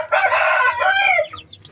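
A month-old chick of a Jimmy White bloodline crossed with Hongdam bloodline gives a loud, close, drawn-out crow-like call lasting about a second, followed by a few softer, higher peeps.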